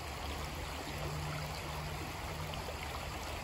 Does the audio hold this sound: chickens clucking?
no